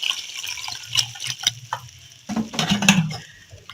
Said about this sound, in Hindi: तो अब मैं इसमें थोड़ा सा पानी शामिल कर लूंगी।